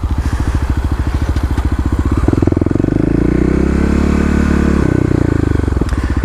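A Kawasaki KLX351 dirt bike being ridden, its single-cylinder engine thumping loudly and close. The pitch steps up partway through as the rider gets on the throttle, then it settles into a steady pull.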